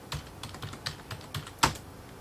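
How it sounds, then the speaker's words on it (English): Keys clatter on a computer keyboard as a name is typed in, a quick run of light, close taps with one sharper keystroke near the end. "I type in my first personal name"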